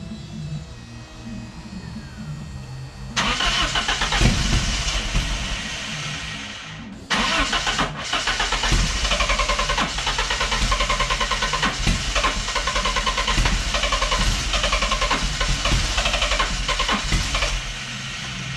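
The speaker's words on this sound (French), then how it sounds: "C'est parti pour le moteur. On va voir si ça démarre." BMW 318is running on ethanol cranks, catches after about three seconds, briefly cuts out, then restarts and settles into a loud, steady, slightly rough idle close by.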